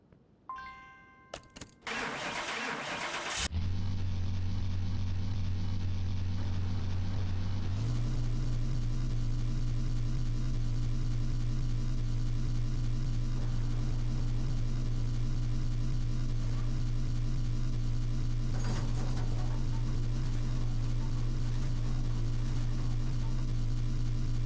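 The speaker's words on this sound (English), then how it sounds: "This car, the sound of the engine reminds me of my summer car" A car engine in Car Mechanic Simulator 2021 cranks and catches after a few chime tones, then settles into a steady, droning idle that rises slightly in pitch and holds, loud and continuous with no talk.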